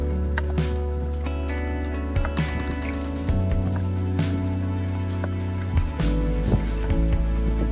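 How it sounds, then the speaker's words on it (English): Bare feet sloshing and splashing in a cold river, with drips and gurgling water moving steadily throughout, close and fairly loud, with no talk over it. "Well, I'm in the river, cooling my feet off"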